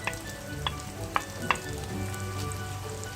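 Chopped cabbage and tomato sauté in a pan for Singaporean rice, giving a steady low sizzle with a few soft clicks of stirring spaced through the clip.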